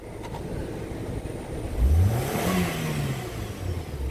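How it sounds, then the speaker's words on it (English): A Nissan Altima engine with a clogged catalytic converter revs up from idle, rising to a loud, strained hum and then settling back to a steady higher idle, heard close without talk. "And as I rev it up, I come up above it."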